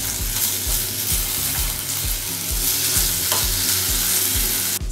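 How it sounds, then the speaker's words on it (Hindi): Tomato, coriander and spices frying in a pan for thatte idli, a loud steady sizzle with regular rhythmic stirring strokes, close and without talk. "सारे अच्छे से फ्राई कर लेती हूँ"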